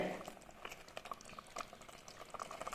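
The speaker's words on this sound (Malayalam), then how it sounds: "ചൂടുവെള്ളം ഒഴിച്ചിട്ട് നന്നായിട്ടൊന്ന് തിളച്ചിട്ടുണ്ട്" Egg butter masala gravy boils in a pan after hot water is poured in, giving a steady, close bubbling and popping that runs throughout with small liquid splats.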